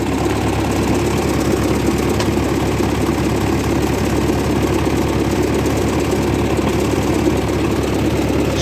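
A 1958 Oliver 550 diesel tractor engine idling, a steady low, knocking diesel clatter with constant vibration, loud and close throughout with no voices.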